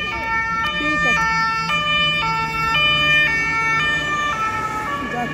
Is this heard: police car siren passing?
yes